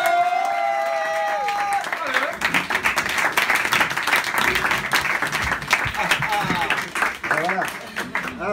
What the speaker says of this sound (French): Faites quand même du bruit pour le Robert, s'il vous plaît